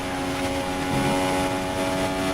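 A race car engine holds full throttle in a racing video game at Belgium's Eau Rouge–Raidillon section, a sustained, steady high-revving tone with little change across the short stretch.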